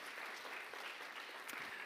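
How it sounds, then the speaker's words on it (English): An audience at a startup showcase event applauds, steady dense clapping at a fairly distant, quiet level, continuous throughout with no speech over it. "Big round of applause there"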